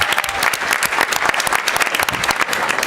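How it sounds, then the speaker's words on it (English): Applause from an audience of progressive candidates at a national candidate training panel, dense and steady clapping that stays loud and even throughout. "So please give yourselves a round of applause."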